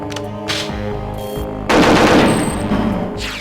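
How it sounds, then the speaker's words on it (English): Automatic fire from the K7 Avenger rifle in Perfect Dark on a firing range: rapid bursts of loud gunshots, with a short pause and then a dense, heavier volley. "The K7 Avenger is incredibly inaccurate at range."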